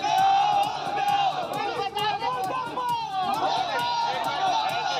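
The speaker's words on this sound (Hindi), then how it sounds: "गुस्साएं लोगों की भीड़ थाने के बाहर जमा हो गई और बैनर पोस्टर के साथ नारेबाजी करने लगी" Angry crowd gathered outside a police station with banners and posters, shouting slogans: a dense, continuous roar of many raised voices and chanting, loud and close, with overlapping shouts throughout.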